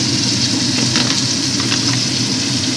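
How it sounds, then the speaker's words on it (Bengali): Bombay duck (lote) fish fry in a pan with hot oil, giving a loud, continuous sizzle and crackle close up, with a steady low hum underneath and no talking. "মাছগুলো ভাজতে বসিয়ে দিয়েছি"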